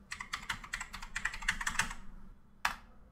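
Quick bursts of keystrokes on a computer keyboard as a search word is typed on a Windows 11 PC, close and crisp, a pause, then one final firm key press; no talking.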